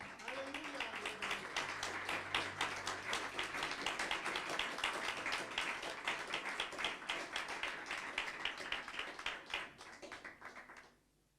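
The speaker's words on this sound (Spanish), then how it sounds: "Otro aplauso al que vive" A church congregation applauds together at a sermon, steady dense clapping sustained for about eleven seconds before stopping abruptly.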